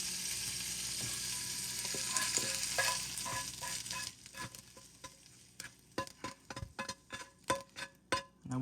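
Meat for costra tacos sizzling in a hot pan, a steady frying hiss at first, then a run of sharp spatula scrapes and pushes against the pan surface as the meat is moved aside.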